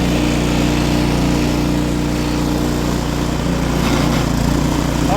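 An Ariens snowblower engine runs nearby with a loud, steady, unbroken small-engine drone and no voices over it.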